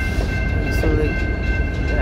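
A freight train rolls steadily past in Saint-Hubert, a continuous loud rumble and wheel noise with a steady high squeal on top and no break for the whole stretch.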